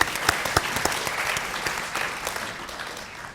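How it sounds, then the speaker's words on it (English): An audience breaks into applause, a dense, steady wash of clapping from many hands that carries on for several seconds before gradually thinning out. "I'll clap for that."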